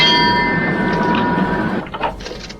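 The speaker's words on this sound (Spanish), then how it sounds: "rápidamente dio 3 campanadas y telefoneó desesperadamente al puente" The Titanic's lookout bell rings out with a bright metallic clang whose ringing tone hangs and slowly fades before cutting off abruptly, followed by faint rustling.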